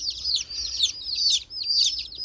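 High-pitched peeping of many male chicks, loud and close, in continuous overlapping bursts of shrill chirps with no talking.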